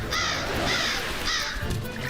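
A crow caws three times in quick succession, loud and close, with harsh repeated calls over steady background noise.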